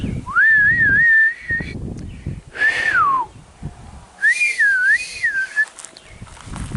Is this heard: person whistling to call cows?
yes